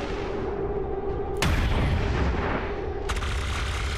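Two heavy overwatch gunshots from the XCOM 2 video game, one around the midpoint and another near the end, each cracking loudly over a steady low ambient hum.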